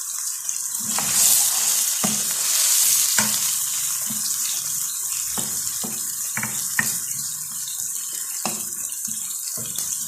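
Onions sizzle in a pan over medium flame, a steady bright hiss with occasional soft clinks and stirring scrapes, close up and without any talking.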